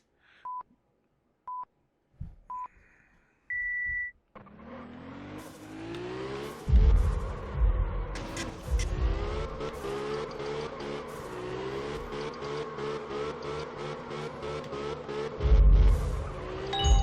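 A car's engine revs and whines in the drifting video game Absolute Drift, climbing and falling in pitch as the car drifts and spins, loud and steady after a few short electronic beeps at the start.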